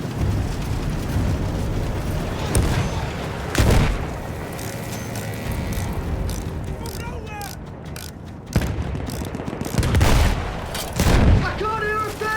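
Artillery shells exploding in the Battlefield 1 video game, several heavy booms scattered among rattling mechanical noise and gunfire, while voices shout over the battle.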